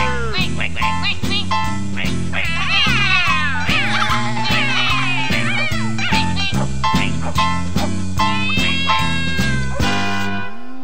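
Voices imitate ducks with rapid, rhythmic quacks sung over a bouncy children's alphabet song, repeating on the beat alongside band instruments before the music stops abruptly.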